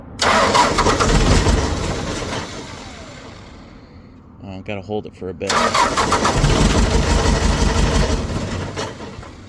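A John Deere tractor diesel engine with faulty injectors cranks and fires up, then runs loud and uneven, with someone speaking briefly over the rumble.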